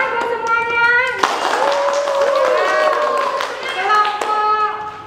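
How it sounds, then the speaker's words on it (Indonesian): A class of schoolchildren claps together in a lively burst, with children's voices chattering and calling over the applause throughout. "Ya, tepuk tangan buat semuanya."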